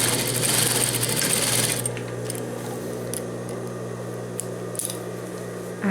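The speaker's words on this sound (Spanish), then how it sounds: "Y cosemos de extremo a extremo." A sewing machine stitches trouser fabric edge to edge with a steady mechanical whir, loudest in the first two seconds before settling into a softer, continuous hum.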